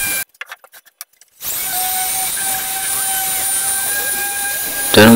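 An electric sanding machine finishes a wooden bird cage with a loud, steady, high whine and hiss that holds constant to the end, after a short burst of voice at the start.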